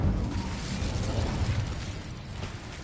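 An Incendio fire spell goes off in Hogwarts Legacy, a dense roaring whoosh of flame and crackle that stays fairly steady and moderately loud before tapering slightly.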